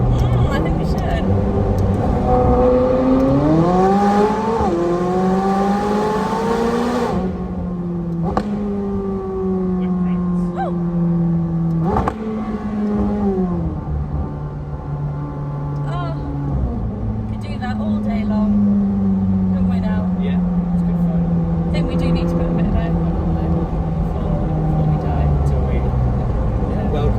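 McLaren 600LT Spider engine inside a tunnel, rising in pitch as it revs for several seconds, then holding a steady droning cruise, with people talking over it in the cabin.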